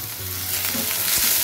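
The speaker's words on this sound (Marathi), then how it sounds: "कांदा जरा चांगलाच परतून घ्यायचा आहे." Onion fries with garlic, curry leaves and kokum in hot oil, a steady loud sizzle with a faint stir or scrape near the end; no talking.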